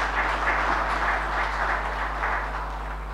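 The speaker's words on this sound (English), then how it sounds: "I do believe that they have earned a round of applause" Applause from a crowd in Dominica's parliament at the 2014 budget address, steady and fairly distant, with a constant low hum beneath it.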